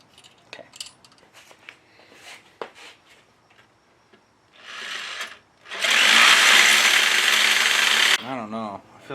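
An aluminum tube is bored out by hand, with scattered metallic clicks and taps under brief talk, then a few seconds of continuous loud grinding before a short wavering scrape.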